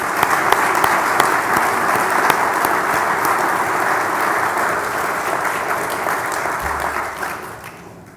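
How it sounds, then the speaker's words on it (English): A conference room audience gives sustained applause, a thick continuous wash of clapping at steady volume that slowly thins and fades near the end, with no talking over it. "I'm sure everybody in this room would like to give a round of applause for the work that they've done."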